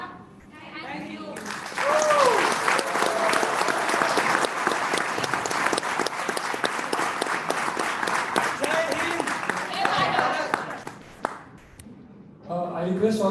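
Audience at a district youth seminar applauding after a youth performance, a dense, sustained wash of clapping from a sizable crowd lasting about ten seconds, with talk just before and after it.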